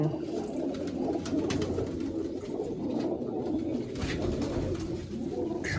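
Pigeons cooing steadily in a coop, overlapping low coos forming a continuous murmur that stays close and fairly even, with no clear speech.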